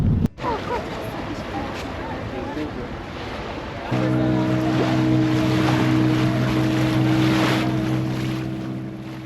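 Wind buffets the microphone, then a small motorboat engine starts humming steadily over splashing sea water and rushing air off Zanzibar, heading to Prison Island, with faint voices underneath.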